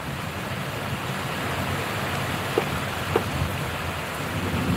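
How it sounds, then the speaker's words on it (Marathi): Heavy rain pours down in a steady, dense hiss, and soft low rumbles of thunder rise faintly underneath. "पावसाची मजा घेते मी."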